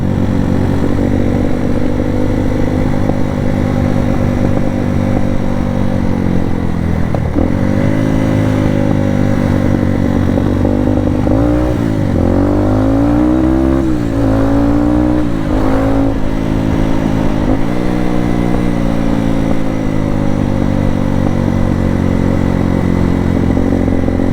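Motorcycle engines roar continuously and loudly, rising and falling in pitch as bikes rev and pass close by on a river trail.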